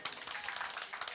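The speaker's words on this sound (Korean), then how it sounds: "우리 박수 한번 해주세요." A church congregation claps together in a burst of applause during a Sunday service, dense hand-clapping filling the space at moderate, even loudness.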